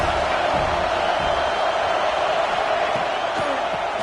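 Steady roar of a large stadium crowd in the NCAA College Football 25 video game, a continuous dense wash of noise with faint scattered shouts and thumps, loud throughout.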